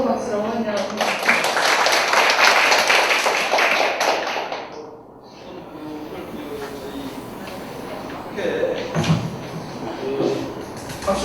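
Audience applause welcoming a speaker at an academic conference, a dense wash of clapping for about five seconds, then quieter room noise with scattered sounds.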